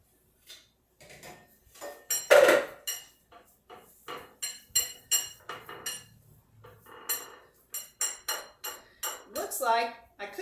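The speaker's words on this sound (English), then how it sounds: "we're going to put that in a greased pie plate. And then we're just going to kind of press that in to make us our little pie shell." A buttery crumb crust is pressed into a greased pie plate, giving a run of light, irregular taps and soft clinks against the dish, close and fairly quiet, spaced out with short pauses.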